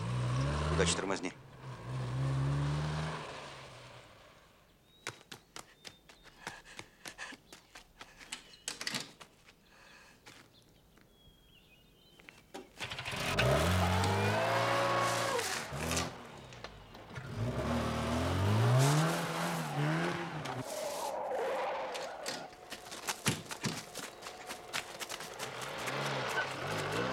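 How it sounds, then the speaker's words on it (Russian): A white Volga GAZ-24 is chased by a pursuing car in a Soviet film car chase. Engines rev and accelerate in loud surges, with door-like thumps, quieter stretches and people talking in between. "Десятка преследует Волгу ГАЗ-24 белого цвета."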